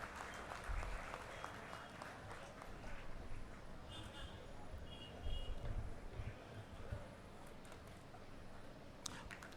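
Audience applause at a university convocation ceremony, a steady wash of clapping from a seated crowd in a large hall, fairly faint and distant, holding throughout with slight swells.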